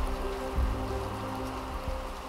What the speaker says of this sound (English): It is raining like crazy. It's not going to stop raining. This is no ordinary rain. This is a monsoon.